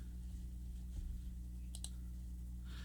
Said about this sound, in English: Click that.